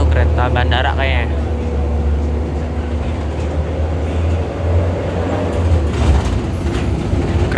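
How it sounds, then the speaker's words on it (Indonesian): An airport train rumbles past close by in Yogyakarta, a loud, steady low roar with rattling wheel noise that fills the whole stretch, with faint voices underneath. "Itu kereta bandara kayaknya."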